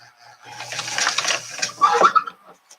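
A sewing machine stitches a makeup pouch in a short, quick burst of mechanical whirring and ticking, fairly close and loud.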